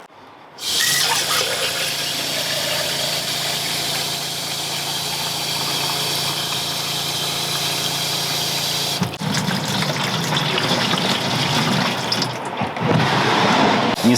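Water pours steadily and loudly into a plastic camper toilet tank, a continuous rushing fill of two to three litres that shifts in tone partway through.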